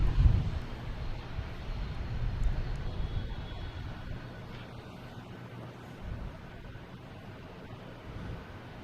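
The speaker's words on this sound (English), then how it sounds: "next coming in, we have an American Airlines coming in from Reagan, an A319, flight 3207" An American Airlines Airbus A319 landing at Boston Logan gives a steady low jet rumble, strongest in the first few seconds and easing to a softer distant drone with wind-like noise; no voices.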